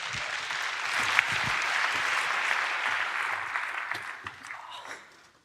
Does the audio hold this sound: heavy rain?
no